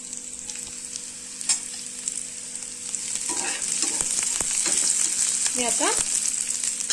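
Chopped onion sizzles steadily in a hot pan, a close, continuous frying hiss with occasional scraping stirs and a few spoken words partway through.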